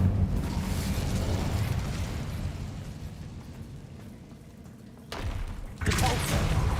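Incendio fire spell cast in Hogwarts Legacy, heard as a dense roaring burst of flame and thudding impacts, easing off midway before two fresh loud whooshing blasts near the end.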